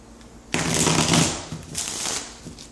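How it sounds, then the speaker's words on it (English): Tarot cards are shuffled close up in a quick riffle, a crisp papery flutter that fades, followed by a softer second shuffle. "So let me do one more shuffle."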